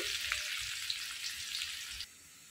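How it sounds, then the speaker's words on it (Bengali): Onions frying in a pan for a meat curry, a steady close sizzle with soft crackles that cuts off sharply near the end, no voices. "আমি এখানে দিয়ে দিচ্ছি মাংসের জন্য পেঁয়াজটা"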